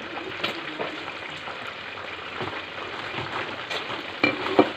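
Chopped onion and garlic fry in a hot pan, a close, continuous crackling sizzle with a few sharper spatters and stirring clicks toward the end.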